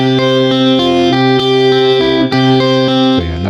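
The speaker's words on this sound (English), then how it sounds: "Sounds like some surfer dude spring reverb, some Beach Boys style stuff." A bass line in FL Studio is processed with a spring reverb effect, giving loud, sustained, twangy notes with a metallic wash as the pitch steps between notes.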